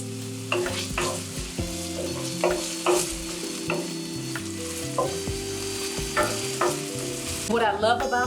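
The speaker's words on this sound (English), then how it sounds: "while I am sauteing and preparing all of my inserts for my soup" Carrots sautéing for a vegan kale, cabbage and butter bean soup, with steady sizzling and repeated scraping stirs, close and moderately loud, and a brief clatter near the end.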